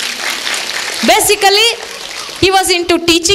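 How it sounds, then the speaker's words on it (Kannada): Audience applause at a comedy show, a steady patter of clapping that continues beneath someone speaking. "ಈಗ ಒಂದು ಚಪ್ಪಾಳೆ ಹೊಡೀರಿ"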